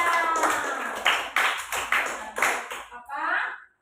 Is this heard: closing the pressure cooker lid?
no